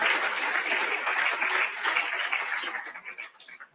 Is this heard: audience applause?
yes